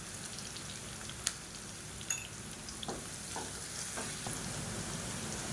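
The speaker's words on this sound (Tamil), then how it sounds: "இப்போ இதை நல்லா வதக்கி விட்டுக்கலாம்." Onion and garlic sautéing in a pan, a steady low sizzle with occasional sharp clicks of a spoon stirring, alone with no talk.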